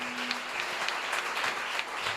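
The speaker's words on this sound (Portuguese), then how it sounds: "Você pode aplaudir o Senhor mais uma vez." Congregation clapping during a Sunday evening church service, a steady wash of applause at moderate volume with a faint low tone beneath it.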